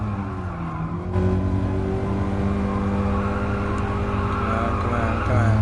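All-wheel drive car in GT Sport, its engine droning steadily up close, holding a loud sustained note with a rise in pitch partway through.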